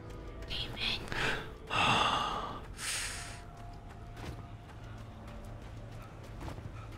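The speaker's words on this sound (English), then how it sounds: "That breathing is really weird." Eerie, raspy breathing of enemies in Alan Wake Remastered, heard as a few gasping, snorting breaths near the start, then a low droning background with faint thuds and a voice talking.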